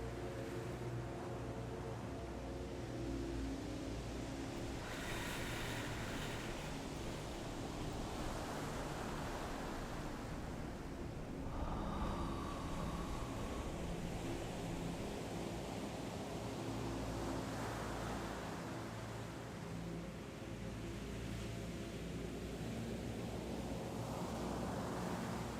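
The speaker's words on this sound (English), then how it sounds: "Focus on the sound of the waves while we do" Sea waves washing onto a seaside shore and rocks, a steady broad surf roar that swells and recedes in slow surges, heard alone without talk.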